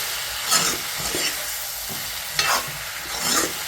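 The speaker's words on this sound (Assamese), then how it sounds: "এতিয়া মছলাটো দি পিনে অকণমান লাৰি দিওঁ ধুনীয়াকৈ।" Stirring chicken with masala in a sizzling pan for an Assamese sesame chicken dish, with a constant frying hiss and periodic scraping strokes of the spoon close by.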